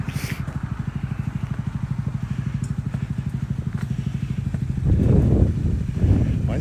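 A motorcycle engine idles with a steady, rapid low pulsing, close by, then a louder rumbling burst near the end, as if revved briefly; no talking.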